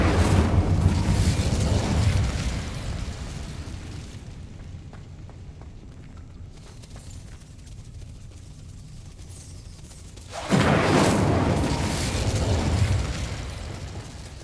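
Confringo fire spells in Hogwarts Legacy, cast in combat: loud blasts and crackling bursts sound at the start and again near the end, with a quieter stretch between them and no talk.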